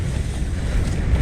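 Strong 60 mph wind gusts on a Utah ski slope batter the microphone with a heavy, low roaring rush that builds slightly toward the end.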